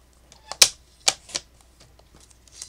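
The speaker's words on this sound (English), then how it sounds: "So then we can take our little strips here and cut them" Strips of paper card are cut by hand for greeting cards, giving a few sharp, close snips and rustles with quiet pauses between them.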